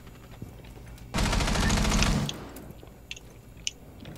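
An LMG light machine gun fires in the video game GTA 5, one loud close burst of rapid shots lasting about a second, followed by a few faint clicks and taps.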